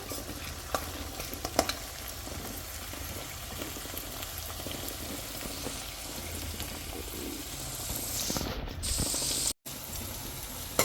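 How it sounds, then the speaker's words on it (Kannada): Onions frying in a pan for an egg fry give a continuous close sizzle with soft stirring, briefly cutting out near the end. "ನೋಡಿ ಈರುಳ್ಳಿ ಬೇಯ್ತಾ ಇದೆ"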